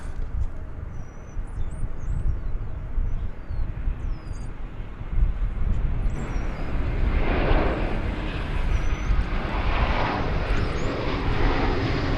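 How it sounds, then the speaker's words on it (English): An American Airlines Airbus A321 airliner arriving at Dallas Fort Worth airport, a loud broad jet roar that swells and holds steady, with faint bird chirps above it. "We've got American Flight 1025 coming in from Tucson, Arizona. It will be an Airbus A321."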